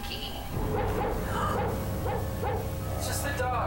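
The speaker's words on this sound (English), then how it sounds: "It's just the dogs barking at the cats over on the bed." Several dogs bark and yip over and over at cats on a bed indoors, steady and fairly close, with whimpers mixed in and a voice talking beneath them.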